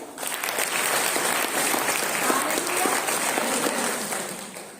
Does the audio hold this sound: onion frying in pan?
no